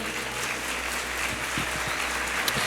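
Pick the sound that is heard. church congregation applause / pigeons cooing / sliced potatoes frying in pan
church congregation applause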